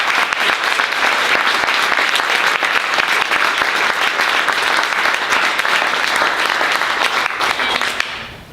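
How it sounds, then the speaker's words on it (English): Sustained, loud applause from an audience at a writers' fiction workshop reading night, dense clapping that carries steadily for several seconds before cutting off near the end. "So one more round of applause."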